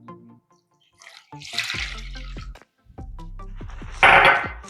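Cold water pours into a bowl for homemade sausage gravy, a short splashing gush followed by a second, louder burst of pouring near the end, with brief quiet gaps between.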